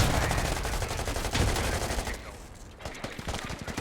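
Gunfire erupting at a tunnel entrance in the video game Squad, a dense, continuous stretch of rapid shots and bursts that fills the whole clip at moderate loudness with no talk over it.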